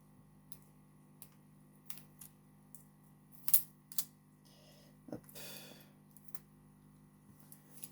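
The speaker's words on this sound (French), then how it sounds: "J'enlève le scotch. Pas évident. Transparent sur transparent." A few sharp clicks and light ticks, then a short crackly rasp of transparent tape being peeled off transparent packaging, close by and fairly quiet.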